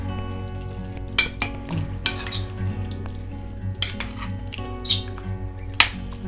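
Meat seasoned with salt, mixed pepper and garlic is stirred in a pan. A soft continuous sizzle runs throughout, broken by sharp utensil scrapes and knocks at irregular moments, heard close with no talk.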